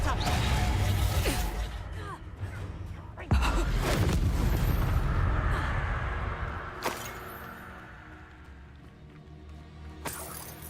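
Hogwarts video game spell combat with a Reducto blasting spell, a loud booming burst near 3.3 s followed by sharp cracks around 7 s and 10 s over a continuous busy game soundscape.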